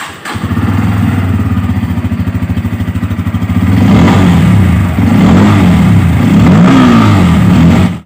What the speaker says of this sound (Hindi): N160 में मिलता है अंडरबेली एग्जॉस्ट, जिसका साउंड काफ़ी बेसी यानी कि काफ़ी बेटर यहाँ पर आपको साउंड मिल जाता है एग्जॉस्ट का।